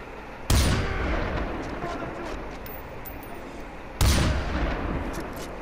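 Two loud gunshots from a gun in the video game Far Cry 4, a few seconds apart, each with a sharp crack followed by a long rumbling noisy tail.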